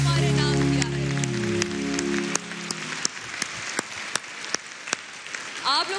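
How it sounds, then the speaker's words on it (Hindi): In a Defence Day television studio broadcast, a musical chord with sustained tones fades out, and scattered studio applause follows as separate sharp claps over a busy background. "तो एक दफ़ा उन शहीदों के लिए तालियां बजाएं भरपूर"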